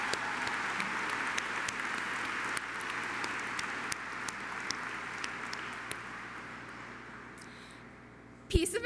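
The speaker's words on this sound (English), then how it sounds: "give a round of applause to celebrate her amazing courage" Audience applause at a high school graduation ceremony, a fairly faint, steady patter of clapping that spreads through the hall and slowly fades, ending with a sharp thump near the close.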